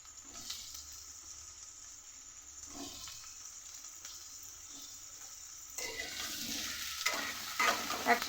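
Potatoes with green chillies and a dried chilli fry in hot oil, a soft sizzle under occasional stirring scrapes that grows louder and busier toward the end.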